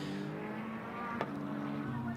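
GT America race car at Indianapolis Motor Speedway braking hard into a turn, a steady engine drone with a sharp tyre-squeal burst midway, under faint commentary.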